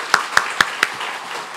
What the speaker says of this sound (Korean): 우리 하나님께 더 큰 영광의 박수 드리겠습니다.